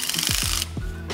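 An impact gun fitted with a socket runs hardware down on a Porsche engine case, giving short buzzing bursts with ratcheting whirs that rise and fall, close and loud.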